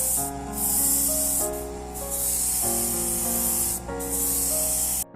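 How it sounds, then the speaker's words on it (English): White paint sprayed onto the hull of a 1/600 scale Poseidon ship model in three long, loud hissing bursts separated by brief gaps, with background music playing underneath. "After the primer dries, start spraying white paint on the hull."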